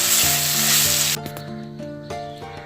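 Spinach ball gravy ingredients sizzle loudly while being sautéed in a pan, a dense hiss for the first second that drops to quieter frying with a few clinks of a utensil, no talk.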